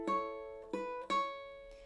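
Ukulele fingerstyle picking of the Here Comes The Sun intro, three plucked notes in a short rhythmic phrase, the last two coming faster, ringing clearly and alone up close.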